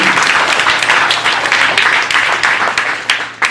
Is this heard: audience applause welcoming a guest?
yes